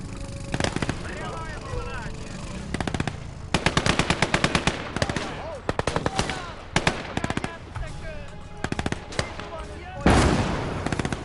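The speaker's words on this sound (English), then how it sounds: "we're going to have to shoot that up with a machine gun" Machine gun fire in the World War II Eastern Front battle game Call to Arms: Gates of Hell, with repeated loud staccato bursts and scattered gunshots through the battle, some more distant, and voices talking between and over the shooting.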